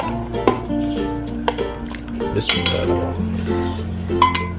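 Chicken korma with black pepper is served from a metal pot into a dish, with repeated clinks and scrapes of a spoon against the cookware, close by, and a voice speaking briefly.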